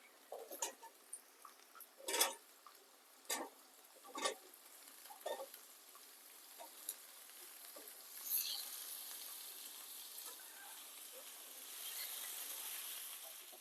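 Potatoes frying with cumin in a pan, a faint low sizzle broken by a series of sharp scraping stir strokes and clicks, then a softer steady fry at the end.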